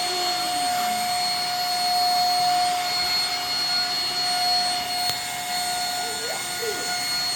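A vacuum cleaner runs on carpet with a steady high whine and airy roar throughout, fairly close, while faint voices of children speak briefly underneath.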